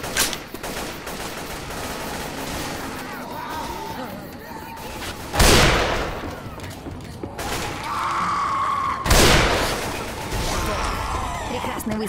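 Gunfire in the Left 4 Dead 2 video game: two sharp, loud shots stand out over constant noisy game clatter and mechanical rattling.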